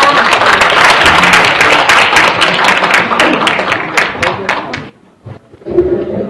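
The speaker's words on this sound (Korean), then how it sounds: "박수로 모시겠습니다." An audience at a Korean community storytelling gathering breaks into loud, dense applause for about five seconds before it fades out, followed by a short stretch of quieter room sound.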